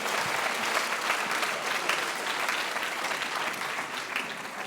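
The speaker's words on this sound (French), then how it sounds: "Applaudissements pour Inès et Rania." High school students and guests at a school eloquence contest applaud loudly, a dense, sustained wash of many hands clapping that holds steady throughout.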